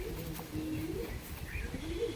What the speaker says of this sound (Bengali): এই যে কোয়ালিটিফুল পায়রা।